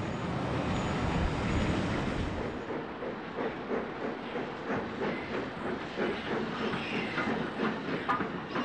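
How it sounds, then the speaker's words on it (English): A Class A1 steam locomotive hauls a parcels train on the York to Newcastle line, a loud rush of steam and rumble fading into steady, rhythmic clickety-clack of wheels as it passes, with no voices. "a parcels working leaves behind Class A1 Wilson Wordsall"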